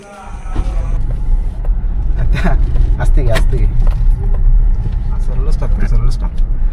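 Car engine running nearby as it is driven off across a farmhouse ground, a low steady rumble with rattling and scraping, while people talk over it.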